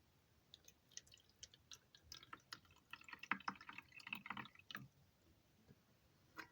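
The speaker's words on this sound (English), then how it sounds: "So I'm just going to pour some water in there." Water trickles and drips into a watercolor palette for Pure Create watercolor inks. The soft, close splashes run in irregular bursts and build to a steadier pour in the middle before tapering off.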